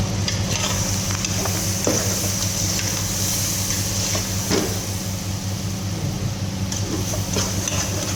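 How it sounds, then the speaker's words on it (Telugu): Masala for a Telangana-style goat tripe (boti) curry being stirred in a hot frying pan, giving a constant close sizzle with intermittent scraping stirs throughout and no talking. "ఇదైతే మంచిగా కలుపుకుందాం"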